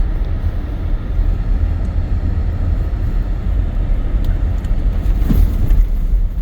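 A car creeps slowly along a slick snowy road, a constant low rumble of engine and tyres with a steady hiss from the road surface, close and unbroken, with no speech.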